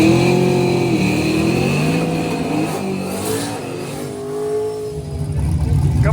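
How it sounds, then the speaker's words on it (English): A Ford Mustang race car accelerates hard, its engine roaring loud and close with rising, shifting pitch that dips briefly mid-run before surging again. "This Mustang is absolutely flying"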